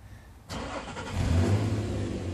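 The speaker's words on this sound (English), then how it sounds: "now we're going to crank the truck over." A truck engine with a tired deep-cycle battery cranks and catches at about half a second, then settles into a steady, fairly loud idle rumble with a slight rise in revs, no talking.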